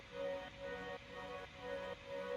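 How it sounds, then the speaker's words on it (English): A sidechained synth drone pad plays within a song production, a soft sustained chordal tone that swells and dips in a steady pumping rhythm roughly every half second, alone without voices. "I sidechain the chords, a drone, which sounds like this,"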